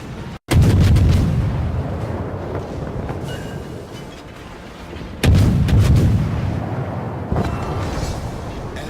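Naval HE gunfire in World of Warships booms out in two heavy, close salvos a few seconds apart, each blast followed by a long rolling rumble that fades under steady battle ambience.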